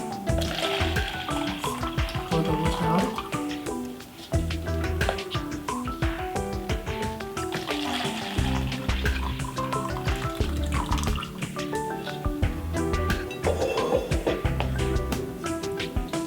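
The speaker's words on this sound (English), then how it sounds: "Let's pour the water out." Water pours out of a kitchen container holding tomatoes, a continuous splashing, gurgling flow that runs steadily throughout.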